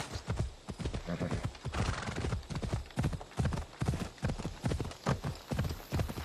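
Horse galloping in the video game Assassin's Creed Odyssey: steady, loud rhythmic hoofbeats with a whinny near the start, continuous for the whole stretch with no talk over it.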